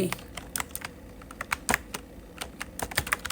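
A computer keyboard is used to type a search, producing a quick, irregular run of light key clicks up close with small pauses between bursts.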